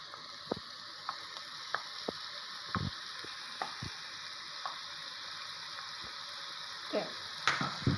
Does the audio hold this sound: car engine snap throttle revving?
no